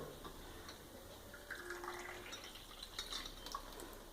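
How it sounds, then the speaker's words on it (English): Tap water pours from a faucet indoors, a faint, quiet trickle with small splashes and drips, distant and low in level. "we'll add the water directly from the tap itself"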